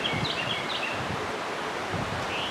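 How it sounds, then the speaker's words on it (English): Steady wind rustles leaves in a soft, continuous wash, with faint bird chirps now and then in the background. "it's been windy today"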